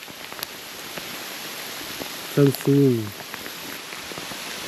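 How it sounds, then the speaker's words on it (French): Hail patters hard and steadily like dense rain on a surface in the Pyrenees mountains, with a short spoken word in the middle. "La grêle. Encore et encore."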